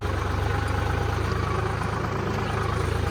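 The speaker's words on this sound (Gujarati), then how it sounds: "આ ટ્રેક્ટર છે, આ ટ્રેક્ટર આપણું છે." A tractor engine idles close by, giving a steady, loud, low rhythmic chugging throb that stays even from start to finish with no voices.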